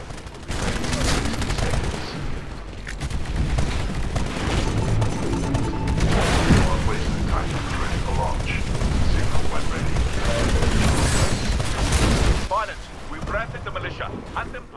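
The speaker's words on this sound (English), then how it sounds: "I don't even know what I'm firing at." Continuous video game gunfire and explosions from the shooter Titanfall, during the IMC campaign mission The Colony, dense and loud for nearly fifteen seconds with bursts of automatic fire, a voice talking over the battle.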